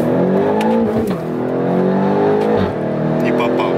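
A Nissan GT-R Stage 2 accelerating hard from inside the cabin, its loud engine note climbing in pitch through two quick gear changes, each marked by a brief dip before the rise resumes.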